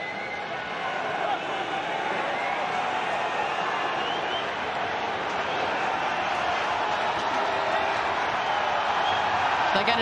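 Crowd at a Gallagher Premiership rugby match between Exeter Chiefs and Bristol Bears rises in a broad, sustained roar of approval, heard at a distance under continuous commentary.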